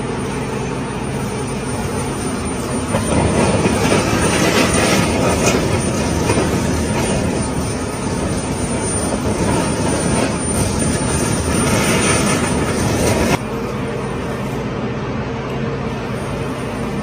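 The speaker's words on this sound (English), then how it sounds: "you fly over in the helicopter" Helicopter flying over a wildfire area in Los Angeles, a steady loud rotor and engine roar that swells in the middle and then drops back to a lower drone, with no voices.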